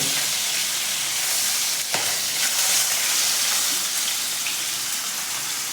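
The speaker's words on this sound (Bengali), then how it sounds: "মাছগুলোকে এপিট রেপিট করে খুব ভালো করে ভাজতে হবে" Rui fish pieces frying in hot oil give a steady, close, dense sizzle with no talk, broken by a brief clatter about a third of the way through.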